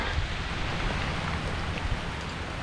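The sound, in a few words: heavy rain falling at night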